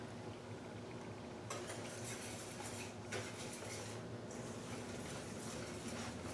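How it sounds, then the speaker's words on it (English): Whole wheat pancake batter is mixed in a bowl, with a utensil clinking and scraping rhythmically against the sides over a steady background hum, close by. "Now we're just gonna mix this all together."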